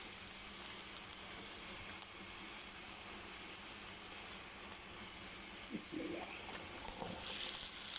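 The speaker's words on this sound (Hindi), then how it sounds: "बस अब इसमें हम भिंडी डालेंगे अपने। भिंडी फ्राई करूँगी इसमें।" Sliced okra frying in a pan with lightly browned onions gives a steady, hissing sizzle, faint but continuous, with a brief burst of sharper crackle near the end and no talking.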